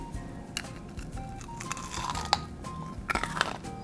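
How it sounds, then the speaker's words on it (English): Close-up crunching of crystal gem hard candies, with sharp brittle cracks that cluster toward the end over a noisy background. "Hold on, listen to this crunch."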